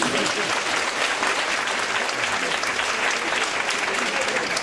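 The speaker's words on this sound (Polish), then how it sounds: "Brawa dla Pani Haniki." Steady audience applause for Pani Halinka at a concert event before a song, a dense, even wash of clapping continuing for several seconds, moderately distant.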